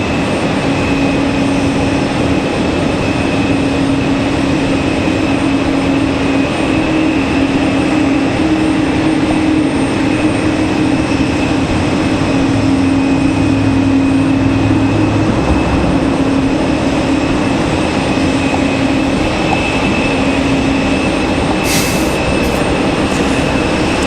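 A Breeze Airways airliner descends toward Raleigh-Durham International Airport in stormy weather, its loud, constant jet roar filling the scene with a steady whine overhead and no speech.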